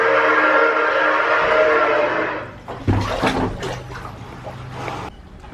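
A train on the Old Mill ride at Kennywood amusement park, a loud sustained whistle-like tone that cuts off and gives way to rattling, clanking mechanical noise and a low hum.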